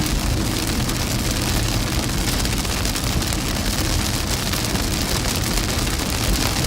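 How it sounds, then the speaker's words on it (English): Steady rain pours down during a storm chase through Midwest supercells, a dense, even hiss that fills the scene from start to finish with no break. "Sorry about the rain, Megan."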